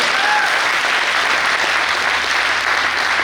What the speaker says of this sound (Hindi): एक जबरदस्त तालियां हो जाती आपके लिए।